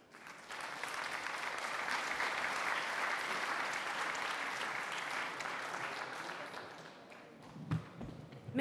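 Audience applauding the speakers at a conference of France's national council for refoundation, with sustained even clapping from a full room that tapers off, then a brief voice at the end.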